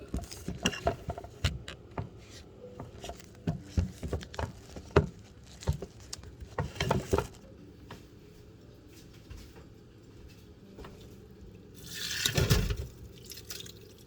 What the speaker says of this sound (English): I'm gonna drain the meat.